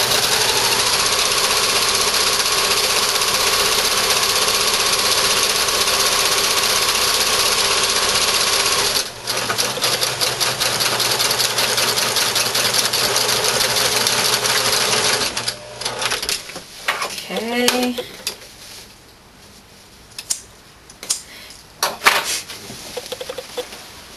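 Sewing machine stitching fabric for an eco shopping bag runs in a long, loud continuous whir for about fifteen seconds, then stops amid clicks and handling noises.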